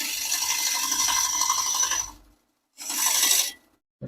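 A wooden bowl shaped on a lathe gives a steady rasping scrape of the cutting tool for about two seconds, then a pause, then a second shorter scraping pass, close and fairly loud.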